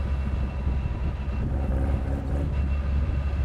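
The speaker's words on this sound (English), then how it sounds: "it's a cool sounding car" A 1968 classic car's engine rumbles with a deep, steady low drone that holds close and fairly loud throughout, with no one talking over it.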